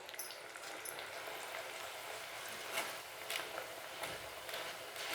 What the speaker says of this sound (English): Finally I am frying the poha.